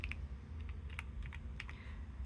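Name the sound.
keys pressed on Keychron V1 Max keyboard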